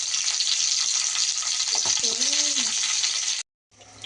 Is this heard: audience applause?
no